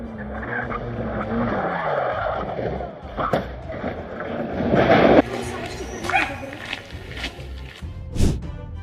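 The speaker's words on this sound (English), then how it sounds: "a rally car lost control and came within inches of striking them" A rally car loses control at a rally event, with a long skidding slide of tires on the road surface, a rising engine surge and scattered bursts of noise; people's voices and a dog's barking are mixed in.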